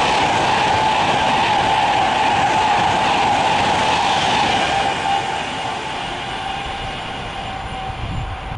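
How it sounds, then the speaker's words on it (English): A passenger service from London Euston to Liverpool Lime Street runs through platform 6 at Milton Keynes Central. Its loud, steady rush and rail roar carries a sustained whine and fades slightly toward the end. "Service from London Euston to Liverpool Lime Street is about to pass platform 6."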